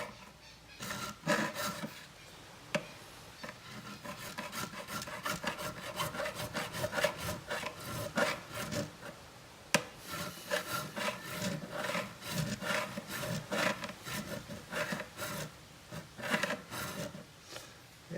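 A file scrapes back and forth across the frets of an Ibanez GiO electric guitar during fret work, giving steady rasping strokes in a close, even rhythm with one short pause midway and no voices.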